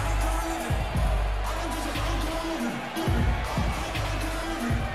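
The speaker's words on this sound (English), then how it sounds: "Listen to this crowd." A large wrestling-show crowd roars and cheers in waves, with rhythmic stomping or chanting pulses underneath, loud and continuous.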